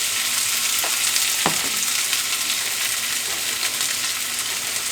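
A handful of hash browns fries on a griddle beside a pancake, a dense, even sizzle with a couple of brief scraping clicks as the spatula works.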